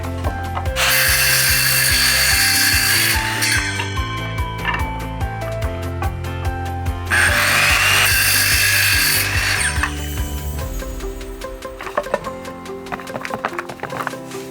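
A saw cutting wood while building stairs on a cliff near a mountain summit, two long loud bursts of buzzing sawing separated by pauses filled with clicks, knocks and rattling handling noise, close to the microphone.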